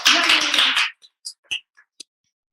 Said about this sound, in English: Big applause for Johnny Rare.